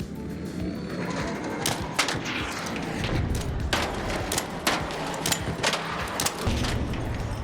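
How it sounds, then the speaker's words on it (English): Gunfire in the video game Arc Raiders, aimed at a robot's thrusters, with repeated sharp shots and booms over a dense, busy mix of game noise, steady and fairly loud throughout. "I need to shoot 2 of its thrusters off"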